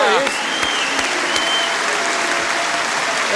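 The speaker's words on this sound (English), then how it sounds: "Can you give him a warm round of applause?" Studio audience applause at a live Australian football TV show, a dense steady wash of clapping with a few louder individual claps near the start and a faint voice calling out over it.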